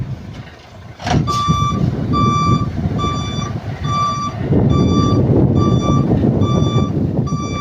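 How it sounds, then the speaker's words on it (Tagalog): Dump truck reversing alarm at a Filipino construction site during a tiling project, a steady series of loud, evenly spaced electronic beeps close by, over a rumbling truck engine, with a sharp bang near the start. "marami dumadaan dump truck eh"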